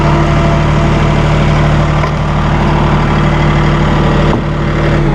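A Massey Ferguson 1835M or 1840M eHydro compact tractor engine runs steadily nearby, a loud, even diesel drone with a low hum that holds throughout.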